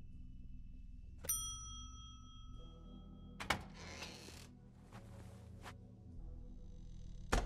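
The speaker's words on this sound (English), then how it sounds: "Oh, I get to ring the bell." A shop counter bell in The Wolf Among Us, a butcher shop scene, rings with a single bright ding that hangs over a low game soundtrack, followed by a few sharper knocks and bumps.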